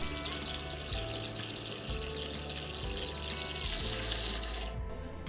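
Water rushes and gurgles steadily as a toilet cistern refills after a repair, a continuous close flow that quiets abruptly near the end.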